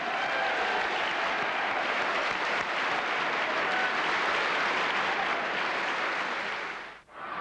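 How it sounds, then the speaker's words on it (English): A continuous round of applause from a crowd honouring Declan Brown, Tipperary's first football All-Star, with broad, even clapping sustained for several seconds before a brief dip near the end. "a special round of applause, I think, for Declan Brown"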